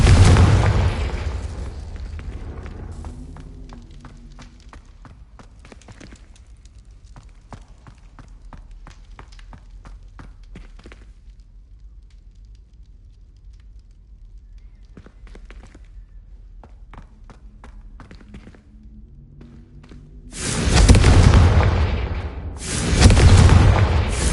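Fiery Confringo spell blasts from a Harry Potter video game burst loudly at the start and again near the end, two heavy booms framing a quieter stretch of scattered footsteps and light clatter.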